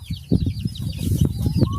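A chicken clucks close by in a quick series of short, throaty clucks, several rapid bursts over a couple of seconds with a faint higher chirp running above, no talking.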